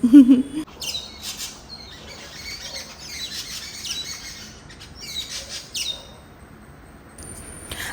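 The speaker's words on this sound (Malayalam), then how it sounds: "ദേ കണ്ടോ കിളികൾക്കൊക്കെ എന്തൊരു സന്തോഷമാണെന്ന് നോക്കി" Several birds chirp and tweet on and off from a short distance after days of heavy rain, their bright calls overlapping against a quiet outdoor background.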